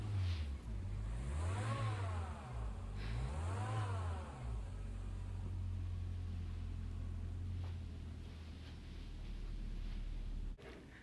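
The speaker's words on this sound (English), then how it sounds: "when the engine spins up above 2000 RPM, you can hear this when the AC is on" The engine of a Toyota MR2 AW11 with the air conditioning on revs up twice in sweeping rises and falls, then settles into a steady, close idle hum. An odd noise shows above 2000 RPM.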